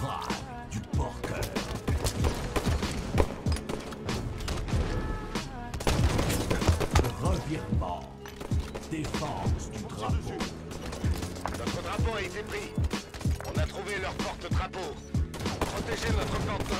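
Rapid gunfire from a duel in the shooter game Halo 5, dense bursts of shots continuing almost without pause, loud and busy with other game effects and a voice talking over it.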